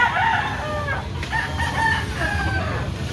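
Gamefowl roosters crowing at a farm, several overlapping crows rising and falling one after another over steady rural background noise, fairly close and loud.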